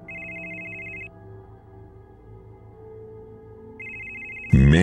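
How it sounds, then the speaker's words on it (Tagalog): A mobile phone ringtone trills in two steady electronic bursts separated by a pause of low room hum, followed by a sudden loud thump at the end. "isang mata ko lang ang nagawa kong buksan para silipin kung sino ba yung istorbong tumatawag sa akin"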